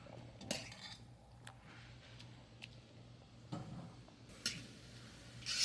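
A fork pokes into cooked pork spare ribs in a pan, giving a few faint, scattered taps and clicks against a quiet background.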